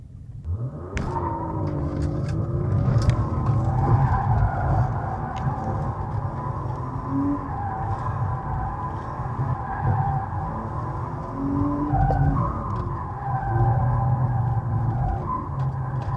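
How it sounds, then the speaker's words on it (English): Car engine rumbling and rising in pitch under acceleration, then easing off with braking and tyre skids, captured from inside the cabin by a DDPai Mola N3 dashcam; steady, fairly loud low drone with shifting tones throughout. "We have tested the camera in the car where we do some acceleration, braking, and then some skidding around."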